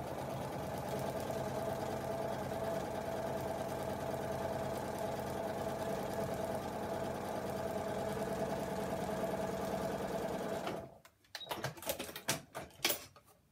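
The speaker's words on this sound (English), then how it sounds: "So I've sewn a 1/4 inch seam" An electric sewing machine runs a quarter-inch seam in one steady, close whirring drone for about eleven seconds, then stops, leaving a few scattered clicks and handling noises.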